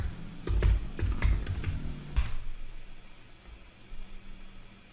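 A username and password being typed on a computer keyboard, a quick burst of close key clicks over faint background hiss that stops after about two seconds.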